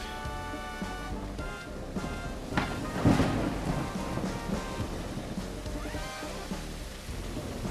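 A thunderstorm with steady rain in the video game Tex Murphy: Killing Moon, with a rumbling thunder roll in the middle over continuous rain hiss and faint tonal game music, with no talk.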